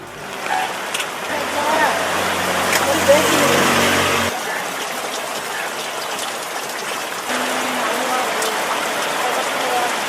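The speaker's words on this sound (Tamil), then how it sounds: "நாகை மாவட்டத்தில் பல்வேறு பகுதிகளில் கொட்டி தீர்த்த கனமழை." Heavy rain pours down across Nagapattinam district, a dense, steady broadband hiss of water on surfaces that continues for the whole stretch with no pause. A low rumble sits beneath it in the first few seconds.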